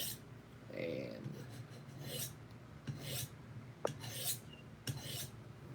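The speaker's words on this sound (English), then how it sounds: "Can I sharpen this up? Will it actually take an edge?" A 3CR13 steel knife is drawn across a sharpener in a series of separate rasping, scraping strokes with brief pauses between them, set against a low background hum.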